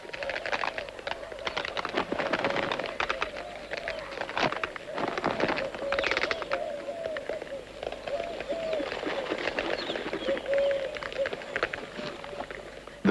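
Painted storks squabble over nesting material, a busy stretch of clattering, scuffling and hoarse calls that runs continuously at moderate level, with noisy bursts throughout.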